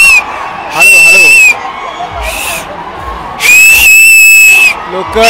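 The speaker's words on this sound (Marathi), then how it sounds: "लोक टाळ्या शिट्ट्या" A large crowd greets Pawan Kalyan at a Solapur election event with loud, piercing whistles in two long bursts and a shorter one, over continuous cheering and shouting; a commentator talks over the noise.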